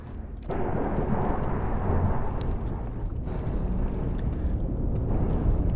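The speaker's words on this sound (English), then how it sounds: "Also, there's thunder in my background," Thunder rolls outside a window during a storm, a loud, continuous low rumble that swells after a brief quiet start and keeps grumbling steadily without a break.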